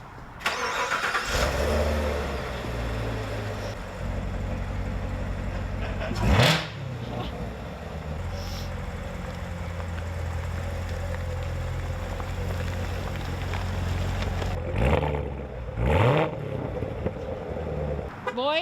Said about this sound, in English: pull forward and then I'll pull the car out.